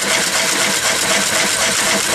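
A McCormick Deering hit-and-miss gas engine running smoothly as it warms up, heard close and loud as a dense, continuous mechanical roar with no pauses.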